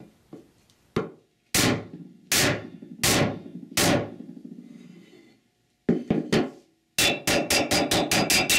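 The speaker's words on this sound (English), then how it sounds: "Install the new front seal with an installation tool or wood block and hammer." A hammer taps a new front seal into a Ford E4OD / 4R100 transmission pump through an installation tool or wood block: several sharp, separate strikes, then a quick run of close, evenly spaced blows, loud and clear with no talking.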